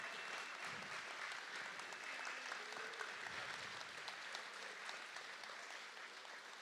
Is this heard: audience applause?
yes